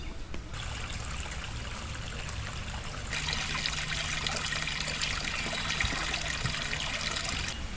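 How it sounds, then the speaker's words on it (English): Sudden rain shower outdoors on a day trip around Cave Spring, Georgia: a steady wet hiss that swells noticeably louder about three seconds in and keeps pouring evenly, with no talking. "Where'd that rain come from all of a sudden?"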